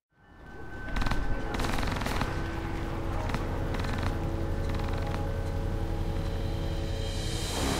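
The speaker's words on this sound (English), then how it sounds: "What is he shooting?" Rapid gunfire from a firefight aboard a yacht in the video game Alpha Protocol forms a dense, continuous rattle that quickly swells to a loud, sustained barrage.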